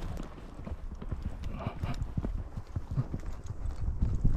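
Hooves of a chestnut stallion being driven clip-clop steadily and fairly close, a continuous uneven patter of hoofbeats over light background noise.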